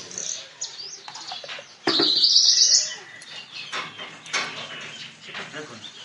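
A caged Javan bush lark (branjangan) gives a few short chirps, with one louder, bright trilling burst in the middle, heard close up against quiet room sound with faint talk in the background.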